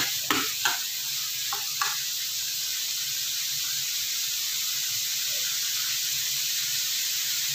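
Onions sauté in a pan for tom yum noodle soup, giving a steady sizzling hiss throughout, with a few sharp stirring scrapes near the start.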